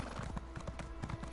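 Rapid, rhythmic clip-clop of horse hooves at a steady trot in The Elder Scrolls Online, close and fairly quiet, with a low background hum.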